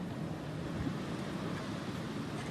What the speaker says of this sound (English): And Blake, the wind gusts, they are picking up at times. I do feel it trying to push me over